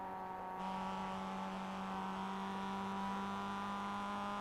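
Mazda MX-5 engine at Tsukuba in iRacing, a steady tonal drone that jumps up in loudness after a brief quiet start, then holds an even, slowly rising hum.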